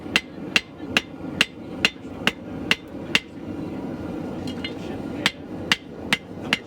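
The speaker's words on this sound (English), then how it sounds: "I have to keep heating and hammering and tapering to make it small enough that I can curl it back." A blacksmith hammers a hot steel tang to taper it: sharp, ringing hammer blows land in a steady rhythm, about a dozen strikes with a pause partway through, close and clear over a low forge rumble.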